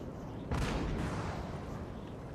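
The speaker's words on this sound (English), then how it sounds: "Cannon continuing to fire." Artillery cannon fire in Napoleon: Total War, a faint distant boom followed by a second muffled shot, rumbling softly against a low battlefield background.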